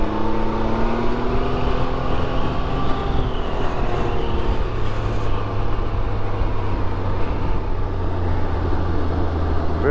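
A 2019 Can-Am Ryker three-wheeled motorcycle accelerating hard on a test ride, its engine note rising in a steady loud drone with gear changes, wind rush over the rider throughout.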